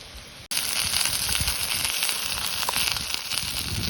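Steak and asparagus hit a hot frying pan at a moorland wild camp, with a sudden onset followed by a loud, dense, continuous sizzle and crackle that holds steady to the end.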